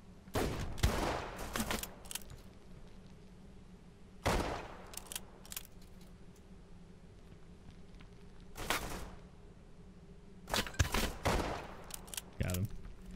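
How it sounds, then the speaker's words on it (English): Bursts of gunfire from scavs in the video game Deadside, several separate volleys spread over the stretch with sharp, fairly loud cracks between quieter gaps, with a low steady hum underneath. "There's scavs shooting up. At the guy."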